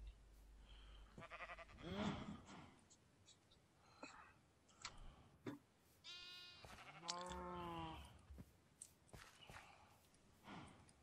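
Sheep in the game Minecraft (FTB Infinity) bleat several times in short wavering calls, mixed with faint footsteps and a soft whispering voice.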